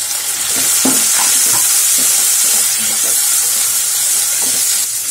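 Onion with ginger and tomato frying and being stirred in a pan for brinjal bharta, a steady close sizzle and hiss with soft scraping stirs throughout.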